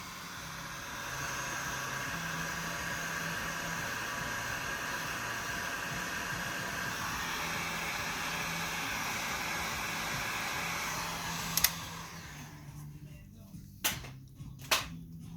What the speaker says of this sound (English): Give it a wee blast with the air gun.